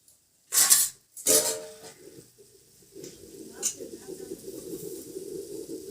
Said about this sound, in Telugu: కొద్దిసేపు మూత పెట్టి ఉడికించుకోవాలి